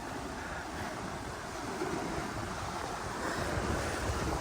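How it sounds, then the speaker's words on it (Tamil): Big ocean waves crash continuously at Kottukal Beach in a broad, steady roar of surf mixed with wind, with no voices heard. "பெரிய பெரிய அலையெல்லாம் அடிக்குது."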